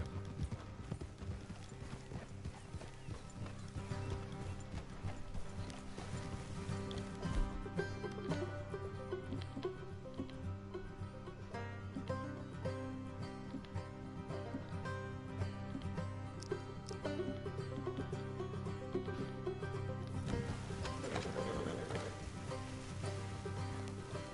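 Horses trot with rhythmic clip-clopping hooves, steady and continuous, under a layer of music.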